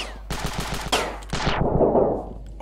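Rapid automatic gunfire from the video game Ravenfield: several loud, close bursts of fast shots with short gaps between them, fading into a rumbling echo, with no voices.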